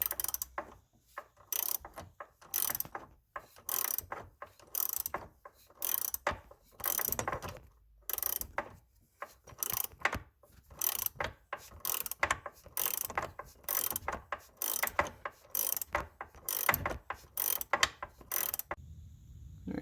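A ratchet wrench loosening nuts on the control arm of a 2012 Polaris Sportsman 850 ATV, with repeated quick clicking strokes in short bursts and brief pauses, close and fairly quiet.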